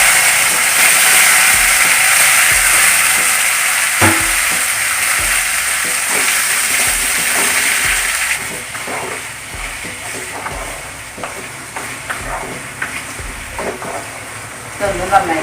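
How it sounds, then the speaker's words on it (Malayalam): Ginger, green chillies, curry leaves, onion and tomato fry in a pan for a rava oothappam chutney. A loud, steady sizzle fades partway through, and stirring clicks and scrapes follow. "നമുക്ക് ഇഞ്ചി പച്ചമുളക് വേപ്പില അതിൻ്റെ കൂടെ സവാള തക്കാളി ഇട്ട് കൊടുക്കാം"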